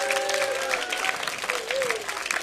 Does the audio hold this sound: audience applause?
yes